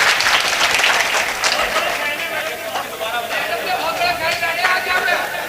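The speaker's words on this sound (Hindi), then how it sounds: "तालियां हिमांशी बाबरा के लिए" Loud applause rises from a mushaira poetry-festival crowd for Himanshi Babra, thick sustained clapping layered with crowd chatter and a voice speaking over it throughout.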